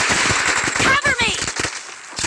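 Rapid bursts of M1014 shotgun fire in an arena match of the mobile battle royale game Battlegrounds India, loud cracking blasts in quick succession mixed with game effects and voice lines.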